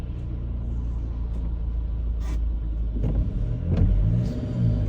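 Cars idle and pull away in slow traffic at a roundabout, heard from inside a vehicle as a steady low rumble with a few passing engine surges building toward the end, no talk.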